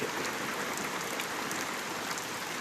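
Heavy rain pours down steadily in Güzelyurt, Cyprus, a dense even hiss with no break or voices over it.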